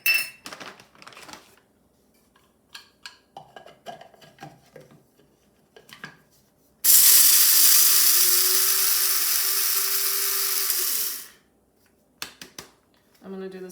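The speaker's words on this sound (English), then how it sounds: "right into the coffee grinder." Electric coffee grinder grinding whole flaxseed, a loud, steady whirring burst of about four seconds that cuts off abruptly, set between quieter kitchen handling and short bits of talk.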